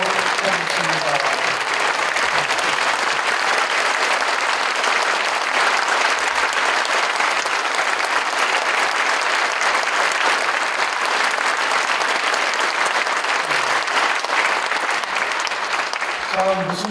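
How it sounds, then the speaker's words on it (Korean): Long, sustained applause fills a church as the congregation stands to honor a retiring pastor at an installation service, dense steady clapping throughout with no break. "모두가 일어나서 긴 박수 한번 해드리도록 하겠습니다"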